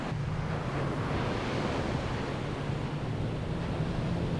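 Pacific Ocean surf at Puerto Escondido, Mexico, a steady wash of breaking waves with no break in the sound, with wind noise hitting the microphone.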